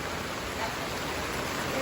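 Heavy rain from Typhoon Kristine pours as a dense, steady hiss, loud and unbroken with no voices.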